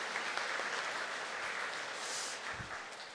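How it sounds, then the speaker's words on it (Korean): A church congregation claps together at Sunday Mass, welcoming newcomers preparing for baptism; steady, dense applause fills the room for about three seconds with no voices over it. "박수 한번 쳐드릴까요?"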